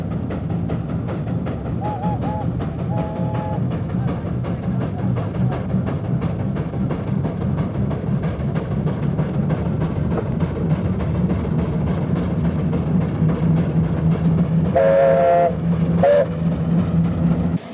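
A steam road locomotive works its way up a hill at the Great Dorset steam fair, giving a steady, continuous low chuffing rumble at close range, with brief whistle-like tones near the start and again toward the end.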